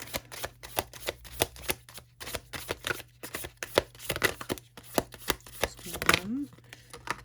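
Tarot cards being shuffled and drawn: a rapid, close run of papery slaps and riffles in an irregular rhythm, ending in a longer swishing flourish, with a faint voice briefly heard.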